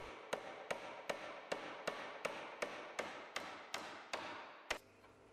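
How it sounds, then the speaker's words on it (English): Steady hammer blows drive galvanized roundhead nails through timber floor joists into the wall plates, about eleven sharp, evenly spaced strikes close by, with no talking. "Secure the timber joists at both ends of the floor to the wall plates with galvanized roundhead nails."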